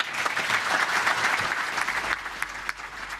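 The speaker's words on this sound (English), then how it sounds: "And a round of applause too for the Assistant Treasurer and Senator Cormann." Audience applause after a televised post-budget political debate in Penrith, a dense wash of clapping that fades near the end, with a few isolated claps trailing off.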